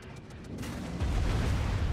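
Heavy naval gunfire from an enemy Mogami cruiser pounding a player's ship in World of Warships, a dense rumbling barrage that swells louder and deeper halfway through, with continuous low booms and no voices.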